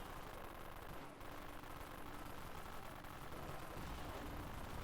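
Rapid automatic fire from the Santa's Little Helper gun in the Dead Frontier video game, a dense continuous burst of shots running loud and unbroken, with only a brief dip near the start.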